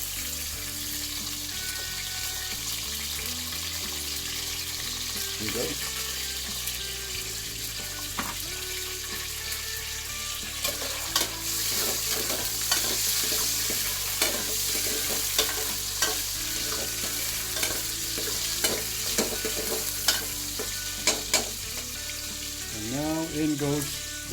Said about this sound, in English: what goes in next would be the garlic, of course, to saute the beef